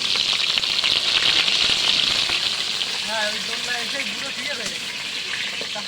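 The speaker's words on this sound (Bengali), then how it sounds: "সুদীপ্ত বিশ্বাস আমাদের আলু ভেজে নিচ্ছে, লাল লাল করে একটু ভেজে নেব" Potatoes frying in a pan until they turn reddish give off a loud, continuous close-up sizzle that eases slightly midway, with a faint voice briefly audible beneath it.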